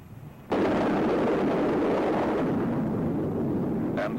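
Atomic bomb dropped from an aircraft detonates with a sudden loud blast, then a sustained roaring, rumbling wash that rolls on for several seconds.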